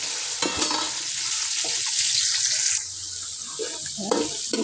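Chilli, onion and ginger stirred and fried in a pan for crab sukka, with continuous sizzling hiss and scraping stir strokes close up, easing slightly partway through, no talk.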